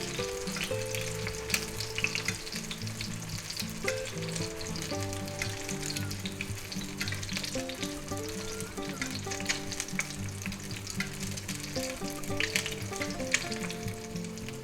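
Frozen eggs frying sunny side up in oil in a pan, a steady crackling sizzle that runs continuously and evenly, with faint background music and no talking.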